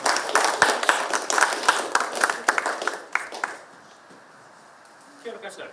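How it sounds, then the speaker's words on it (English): Audience applause for Manu at a talk on solar solutions for marae and communities: a burst of dense clapping for about three seconds that fades out, with brief sounds near the end. "Let's give our bro manu a warm round of applause"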